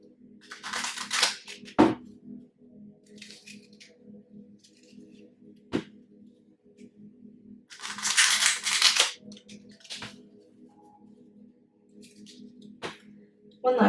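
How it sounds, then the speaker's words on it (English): Tarot cards shuffled by hand in a quiet room, giving two bursts of crisp riffling with sharp taps and soft rustles between them, close and moderately quiet, with no voice. "One last shuffle."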